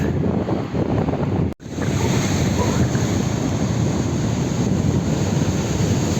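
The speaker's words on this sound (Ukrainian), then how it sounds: "шум, конечно, моря с ветром непередаваемый" Loud wind roars across the microphone over a constant rushing wash of stormy sea waves. The noise is steady, with one brief dropout partway through.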